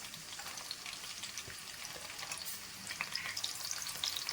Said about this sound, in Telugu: ఈ ఆనియన్స్ కూడా మనకి గోల్డెన్ కలర్ కొద్దిగా వేగాలండి.